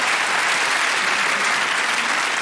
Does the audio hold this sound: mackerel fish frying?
no